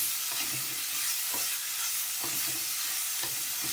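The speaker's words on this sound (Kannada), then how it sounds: "ಸ್ವಲ್ಪ ಫ್ರೈ ಮಾಡಿಕೊಂಡು ಆಮೇಲೆ ಅದಕ್ಕೆ ಮಸಾಲೆ ಹಾಕ್ತೀನಿ" Bitter gourd frying and sizzling in a pan, a steady hiss with occasional stirring scrapes and clacks, close and continuous with no talk.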